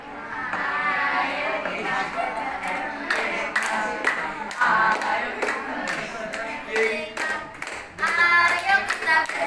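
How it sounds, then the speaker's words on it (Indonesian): A school class claps hands in a classroom, with quick, uneven bursts of clapping alongside children's voices chanting and talking over it, the clapping loud and close. "Kasih tepuk tangan."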